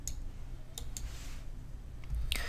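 Several crisp mouse clicks land on a close button at a computer, sharp and isolated in a quiet room, with a short gap between them and a faint rustle near the end.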